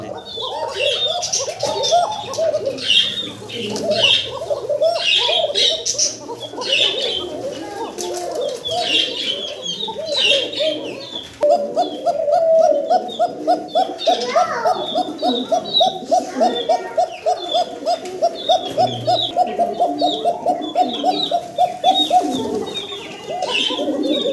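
A pair of cream bar Lahori pigeons coos in a steady, repeated rhythm, the calls growing louder and more regular in the second half, while people talk nearby throughout.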